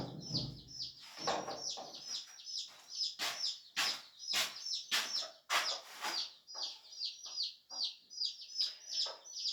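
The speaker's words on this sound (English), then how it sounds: "My experience with this mother hen and 8 babies, she's still in here, which is fine." A mother hen with eight chicks, heard up close: the hen gives low clucks while a steady stream of high, rapid peeps comes from the chicks in short irregular bursts.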